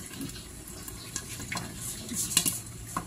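Pork lechon kawali fries in a pan, giving soft crackling sizzles and scattered pops over a low background hiss. The sound is fairly faint and close, with no talk.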